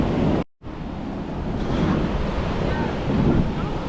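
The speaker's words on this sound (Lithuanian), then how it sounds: "Jūra šiandien tokia" Rough, choppy sea waves wash steadily at Padang Padang beach in Bali, a broad constant roar of surf with wind buffeting the microphone, briefly cut out near the start, no voices.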